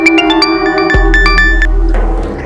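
A loud electronic phone tone plays a short melodic pattern of sustained notes for a couple of seconds, as a call rings out in a Hindi crime drama scene.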